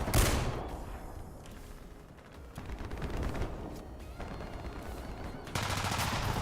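Rapid bursts of small-arms and machine-gun fire crackle through a War Thunder ground battle, with loud volleys clustering near the start, a brief lull, then renewed steady shooting that swells again toward the end.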